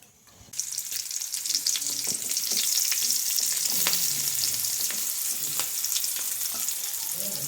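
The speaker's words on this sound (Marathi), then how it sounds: "आता फोडणी घालू का मस्तपैकी" Onion and chili tempering hits hot oil in a pan on a gas stove, bursting into a loud, steady sizzle with occasional stirring clicks, close and continuous after a brief quiet start.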